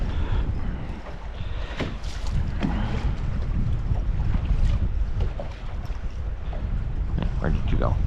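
A small fishing boat rides choppy waves on the Columbia River in heavy wind, with hull slaps and water rushing under constant wind buffeting the microphone, and people talking now and then.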